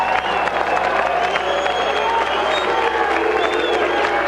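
A fight crowd claps and cheers steadily for the fighters after a drawn bout, a dense wash of applause filling the hall with no break.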